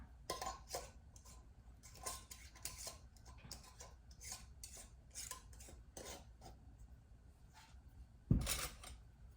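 Metal canning jar rings screwed fingertip tight onto jars of chicken soup, a run of light clinking and scraping metal-on-glass clicks in short bursts, with one sharper clank near the end.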